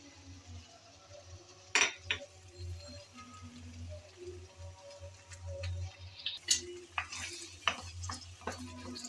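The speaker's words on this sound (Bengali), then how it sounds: "এখন নেড়ে চেড়ে ভালোভাবে কষিয়ে নেব।" Bottle gourd paste fries quietly in a pan while a spoon stirs it, giving soft scraping, a few sharp metallic clinks against the pan and a low background hum.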